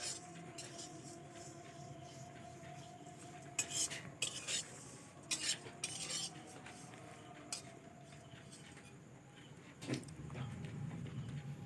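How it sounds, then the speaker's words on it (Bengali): Flattened rice (chira) is fried and stirred in a pan with peanuts: faint, intermittent scraping and clinks of a utensil against the pan over a low kitchen background, with a few sharper knocks. "বাকি চিড়েগুন এইভাবেই ভালো করে ভেজে নেবো সুন্দরভাবে ভেজে নেবো"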